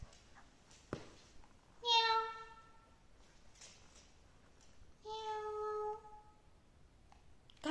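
Cat meowing twice near a dog, two clear drawn-out meows a few seconds apart in a quiet room, with faint thumps between.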